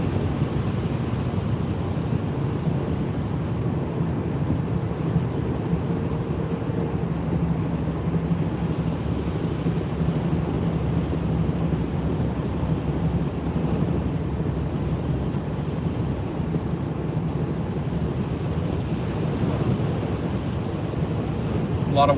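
Strong wind roars steadily through a heavy snowstorm beside a mountain highway, a continuous loud broadband rush buffeting the microphone for the whole stretch with no voices.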